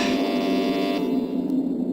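An elevator in the video game Metal Gear Solid gives a steady electronic buzzing beep over game hum, which cuts off abruptly about halfway through, followed by a faint click.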